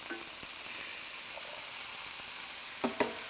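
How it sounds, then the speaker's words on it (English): Small-chopped zucchini and canned sweet corn frying in a pan make a steady close sizzle, with a couple of sharp utensil clacks near the end and no voices. "I'm gonna fry this up for another 3 to 5 minutes"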